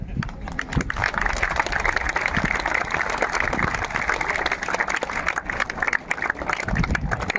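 Sustained applause from a large crowd at a college gathering, dense clapping continuing steadily for several seconds with faint voices underneath.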